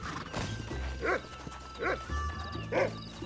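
Horse hooves clip-clop in the Red Dead Redemption video game, with three short whinny-like calls spaced about a second apart over a rumbling background, fairly close and loud, with no speech.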